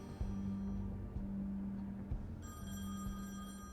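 A telephone rings in the game The Wolf Among Us, repeated electronic ringing bursts over a low background hum.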